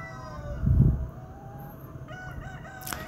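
Free-range chickens and a rooster on a hillside pasture, with one short, loud crow close by followed by quieter scattered clucks and faint bird calls around the flock.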